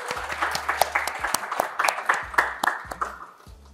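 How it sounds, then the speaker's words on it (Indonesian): Scattered audience clapping at a film promotion event, with sharp individual claps standing out over a light, uneven round of applause that tapers off. "Boleh mungkin tepuk tangan dulu dong buat Zara."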